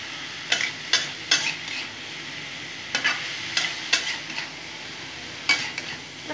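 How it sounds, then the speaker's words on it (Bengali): Vegetables fry in a pan as turmeric is stirred in, with a handful of distinct scraping strokes spaced a second or so apart over a low, steady sizzle. "আবার নাড়াচাড়া করে নেব।"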